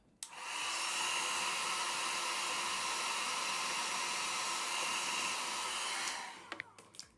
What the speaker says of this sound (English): And then, of course, hit it with the blow dryer.